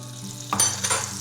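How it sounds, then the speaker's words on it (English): Butter crackles and sizzles briefly in a hot All-Clad stainless steel pan, a soft bubbling hiss with a couple of sharper spits, no voices. "that amount of sizzling for the butter is correct"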